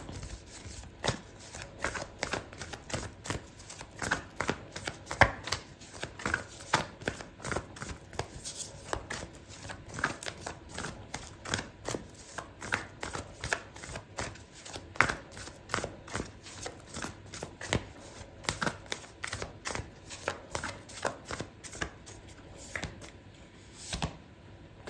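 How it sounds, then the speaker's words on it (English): A deck of oracle cards is shuffled by hand for a love reading, producing rapid soft riffling and tapping that repeats steadily at close range for the whole stretch, with no talk. "I'm going to pull out an oracle card for you"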